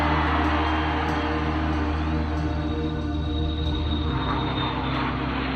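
A constant, loud droning roar of an airplane's engines in flight, steady throughout with no breaks.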